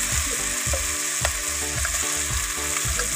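Potatoes and fish fry in tomato gravy in a pan, giving a steady close sizzle broken by regular scraping stirs of a spoon.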